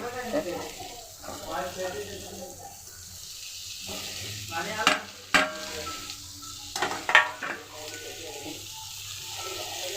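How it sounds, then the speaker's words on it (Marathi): Boiled eggs get stirred into a sizzling masala in a pan for a dry egg dish, a low frying hiss with a few sharp spoon clinks and scrapes near the middle, while someone speaks over it at the start. "जास्त हलवायची गरज नाही थोडी आपण हलवून घ्यायचं"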